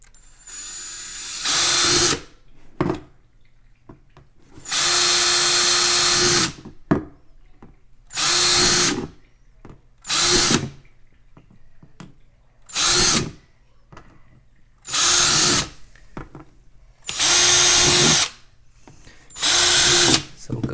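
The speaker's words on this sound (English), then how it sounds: "drill a bunch of holes in the top" A power drill bores holes in a plastic tote lid for a worm compost bin, in repeated loud bursts of a few seconds each, separated by short pauses with faint background hum.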